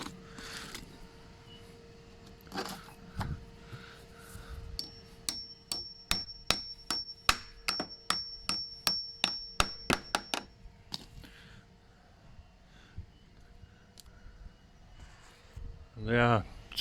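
Hammer blows strike screw-thread packers while garage patio doors are fitted, a steady run of about a dozen sharp, ringing metallic knocks in the middle, with quieter handling and knocks before and after.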